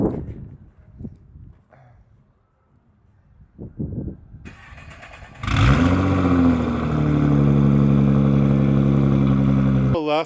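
A modded Nissan GTR's engine fires up after some quiet shuffling and faint speech, then runs loud and close with a steady rumbling idle as the car is put in reverse.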